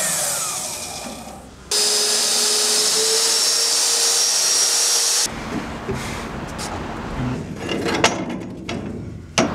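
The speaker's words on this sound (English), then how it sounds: "So this drill's magnetic. It sucks onto the wall and it's like a pillar drill." A magnetic drill, clamped like a pillar drill to the steel wall inside a giant ship, whirs loudly for several seconds with a steady high whine, then cuts to scattered clanks and knocks as it winds down.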